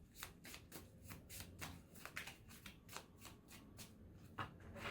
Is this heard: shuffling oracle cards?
yes